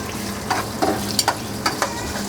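250 grams of onions sizzle and fry in ghee while being stirred to brown them for chicken korma, a steady close crackle with several distinct stirring scrapes and no talk.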